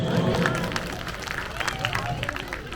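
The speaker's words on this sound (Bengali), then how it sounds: "কানন দেবনাথের একটা জোরে হাততালি হোক।" Audience applause for teacher Kanan Debnath of the Bengali department at a school performance event, a steady wash of clapping from a crowd mixed with murmuring voices throughout.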